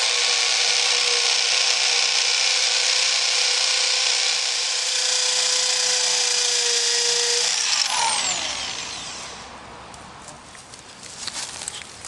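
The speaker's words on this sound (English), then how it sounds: "Using a 1/2 inch concrete rotor hammer" A 1/2 inch rotary hammer bores into concrete with a loud, continuous grinding roar for about eight seconds, then stops and leaves faint clatter and rattling.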